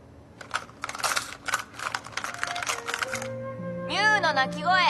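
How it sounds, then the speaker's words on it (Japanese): A makeup pouch handled up close, with clicking, rustling and rattling contents in quick irregular bursts, followed by a short wavering vocal sound at the end. "化粧ポーチの音。"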